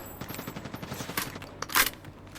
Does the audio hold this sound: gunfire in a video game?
yes